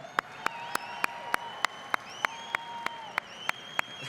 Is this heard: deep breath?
no